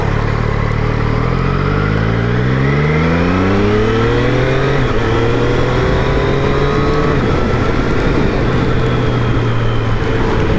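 A 2023 Triumph Street Triple 765 R motorcycle engine revs in the rain, loud and close, its pitch climbing through a sweep and then holding a steady high drone.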